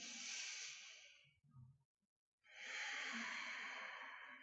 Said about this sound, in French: Une longue respiration ici.